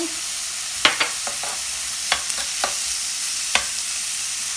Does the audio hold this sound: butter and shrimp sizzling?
yes